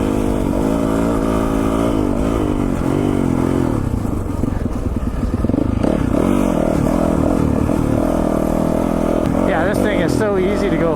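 A 2021 Yamaha YZ450FX dirt bike ridden fast, its engine loud and close throughout, revving up and down in steady surges with clattering and wind rush.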